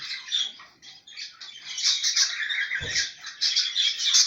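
A young chick calls from close by in a nest box, with rapid, shrill chirps and squawks repeating almost continuously. Brief handling noise sounds partway through.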